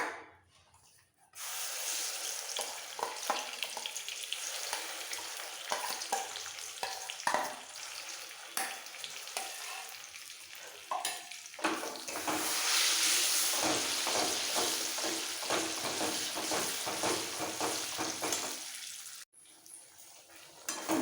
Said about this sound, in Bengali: ভালো করে একটু কষিয়ে নিতে হবে